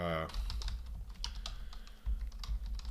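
Someone types a tweet on a computer keyboard, quick, uneven bursts of close key clicks and taps, with a short voice heard at the very start.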